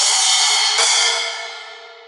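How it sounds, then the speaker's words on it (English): A bright splash cymbal crash rings out, with a second splash cymbal strike close behind, then both shimmer and fade away slowly with nothing else underneath. "And the 2 splash cymbals make different sounds."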